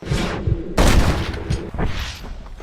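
Gunfire rings out in a Wild West shootout in Red Dead Redemption, loud close shots bursting in quick succession with a heavy blast near the one-second mark and further reports trailing off, with no talk.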